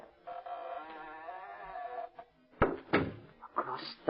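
A door opens in an old-time radio drama: a sustained tone gives way to a few thumps and clunks of the door, close and moderately loud.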